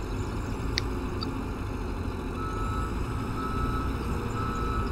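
A farm vehicle in Farming Simulator 17 reverses with steady, evenly spaced high beeps over a low idling engine drone, close and continuous.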